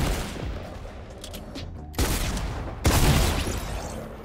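Gunfire in Fortnite: scattered shots at first, then two sharp, loud bursts of rapid fire with a short gap between them.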